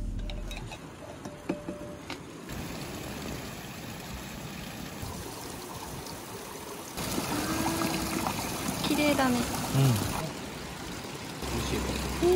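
Spring water runs steadily from a tap in Morioka, Iwate, a continuous splashing flow with outdoor background noise, getting a bit louder partway through.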